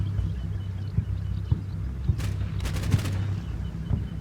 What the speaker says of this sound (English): Gunfire from that building.